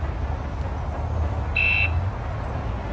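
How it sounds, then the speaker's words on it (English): A 2003 Alpina's car alarm gives one short, high electronic chirp partway through, over a steady low outdoor rumble. "The alarm is super sensitive."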